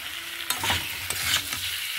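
Chopped tomatoes frying with spices in a pan for a prawn and pumpkin curry, a continuous close sizzle broken by a few spatula scrapes and stirs.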